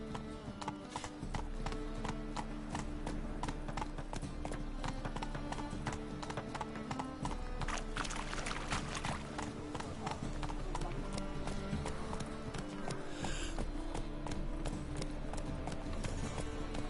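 Roach, Geralt's horse from the video game The Witcher, gallops in a steady rapid clip-clop of hooves that runs throughout, loud and close against game ambience.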